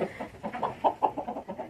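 A large hen clucks repeatedly in short, throaty bursts while being weighed, close by, with a soft rhythmic pattern and no talking.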